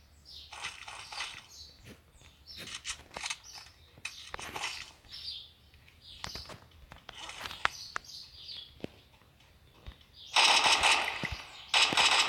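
M4 rifle gunfire in a game, heard as scattered bursts of sharp shots at moderate distance and then a louder, denser volley near the end, with no speech over it.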